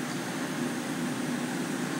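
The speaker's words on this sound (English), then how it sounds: "The noise you can hear in the background is the extraction fan." Extraction fan on a CNC laser cutter running while the machine cuts acrylic, giving a constant airy whoosh with a steady low hum beneath it, unbroken and even throughout.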